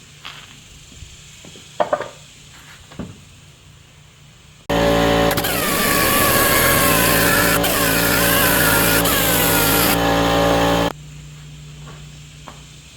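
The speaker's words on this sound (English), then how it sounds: "you don't have to listen to that air compressor making all that racket" An air compressor on a masonry edging job kicks on abruptly with a loud, steady mechanical roar that holds for about six seconds and then cuts off, framed by quieter scattered knocks before and after.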